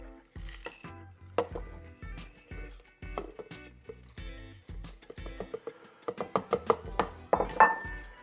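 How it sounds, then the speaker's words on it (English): Dried onion pieces clatter and clink into a glass blender jar at close range, a run of sharp knocks and rattles with brief pauses, denser and louder toward the end. "Now let's start filling this blender up."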